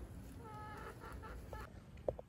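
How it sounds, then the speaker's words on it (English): A faint murmur of dwarf chickens clucking in the background over low rumbling noise, with a couple of sharper clucks near the end. "They have just tore apart this chicken yard here."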